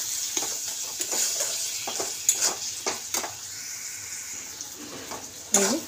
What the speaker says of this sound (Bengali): এবার টমেটো, কাঁচা লঙ্কা কাটা ছিল দিয়ে দিলাম। তো এটা এবার ভালো করে আমি কষিয়ে নিই।